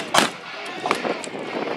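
Gunfire from a reenactment of the WWII assault on Pointe du Hoc: two sharp, loud shots about a second apart, the first the strongest, over a rumbling outdoor background.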